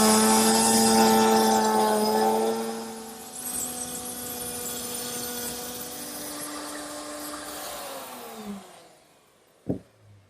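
A router cuts a rabbet along the back edge of a pine bath cupboard top. Its high whining motor drones steadily, dips as the cut is finished, then winds down and falls quiet before a single sharp knock.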